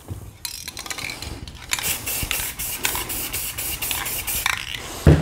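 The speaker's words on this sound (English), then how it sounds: "Now, we're gonna take the opposite spray colors and do the reverse fade." Aerosol spray paint can hissing in a series of short bursts and longer sprays, close and fairly loud, with faint clicks of the nozzle between passes.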